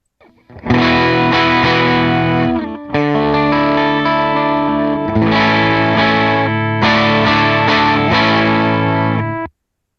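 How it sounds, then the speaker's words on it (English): Clean electric guitar tone run through a Line 6 Helix compressor as a dry DI signal, with no reverb or delay, played as sustained strummed chords in several phrases that ring out loudly and alone. "That is what I would call my clean tone without any reverb and delay"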